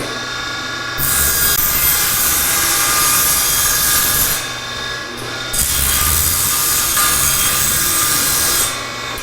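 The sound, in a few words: sawing 1/4 inch plywood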